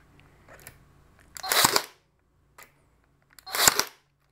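A Central Pneumatic brad nailer in single fire mode drives brad nails, giving two loud sharp pneumatic bursts about two seconds apart, each preceded by faint clicks of handling, close with no talk.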